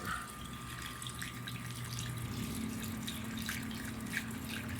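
Water runs steadily into a container being filled with salt water mixed to about 1.018 specific gravity for growing phytoplankton, a continuous close splashing hiss with no talk.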